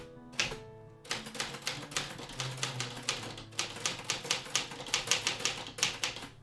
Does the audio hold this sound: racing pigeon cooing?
no